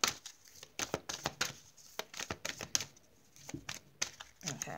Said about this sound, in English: Okay, enough shuffling.